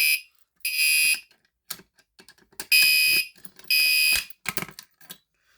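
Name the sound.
smoke alarm being activated in a fire alarm system test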